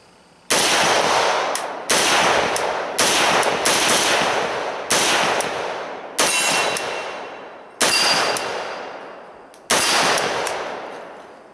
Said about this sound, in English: I know that I like shooting the gun, the AKs, with the brake on them